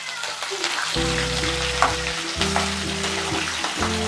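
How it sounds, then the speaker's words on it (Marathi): Green chillies frying in hot oil, a bright, crackling hiss that carries on through the clip, partly masked by louder background music. "आता आपण मिरची तळून घेऊयात"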